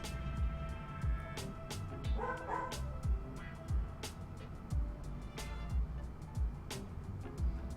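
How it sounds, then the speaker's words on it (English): A dog barks loudly and repeatedly in sharp, uneven bursts, with yips and some whimpering mixed in, set against steady background noise. "I swear that dog is like hell-bent on destroying everyone's eardrums at any given moment."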